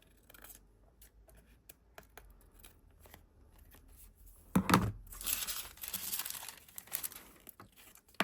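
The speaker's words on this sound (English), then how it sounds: "I've started with the scissors, so I'll just go on with the scissors" Quiet rustling at first, then a burst of patterned paper being snipped and crinkled with scissors, close to the microphone, continuing in a papery flurry.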